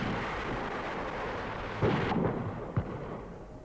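Cannon fire booms over a town during the Kruševo Republic uprising. Two heavy, deep blasts land about a second apart above a continuous low rumble.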